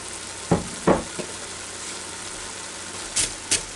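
Spoon scraping and stirring meatball sauce in a pot over steady sizzling, with a few distinct scrapes close by and a low simmer continuing between them.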